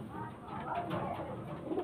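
A female pigeon at a breeder's home coos faintly and intermittently under a soft murmur of nearby voices.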